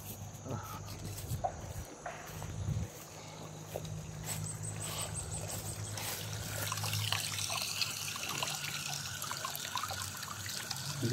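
Water pours and trickles softly into a drinking vessel outdoors, a faint, steady liquid dribble heard close up with no talking.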